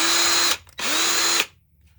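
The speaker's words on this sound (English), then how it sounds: "this thing sounds almost exactly like these brushed these like 15 plus year old brush drills. I mean, listen to this." An old brushed power drill, about fifteen years old, whirring loudly in two short bursts with a brief gap, the motor whine rising as it spins up, then cutting off to quiet.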